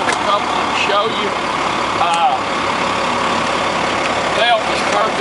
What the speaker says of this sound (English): We've got this engine running here, folks.